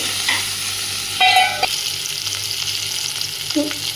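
Ivy gourd (dondakai) fries in a hot pan with a steady sizzle, broken by a few louder scraping stirs of a spoon against the pan, close by with no talk.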